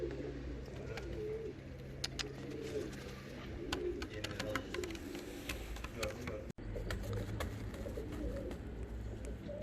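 English Nun pigeons, a large yellow male among young birds, coo softly and steadily in a loft over a constant low hum, with faint chirps and no voices.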